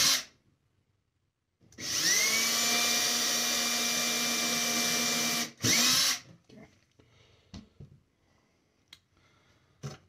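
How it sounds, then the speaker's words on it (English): Power drill boring holes for soft close cabinet hinges: a loud, steady whine runs alone for about four seconds, breaks briefly, then gives a short second burst, followed by faint handling clicks and taps. "And my drill can go all the way through."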